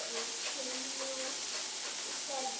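Butter and capellini sizzle in a hot pan as the butter browns, giving a steady close hiss with a few faint tonal streaks over it.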